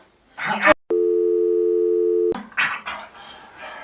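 A telephone busy signal sounds as a steady, loud electronic tone for about a second and a half while a phone call is being placed, with speech just before and after.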